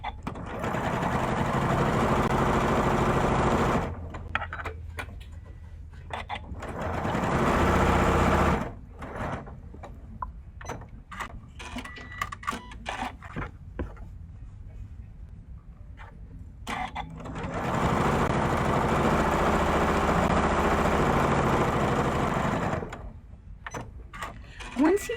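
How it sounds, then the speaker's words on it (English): Sewing machine stitching half square triangle quilt pieces in several bursts of steady whirring, each a few seconds long, separated by quieter pauses with handling sounds and someone speaking. "now I'm going to sew directly on top of those lines"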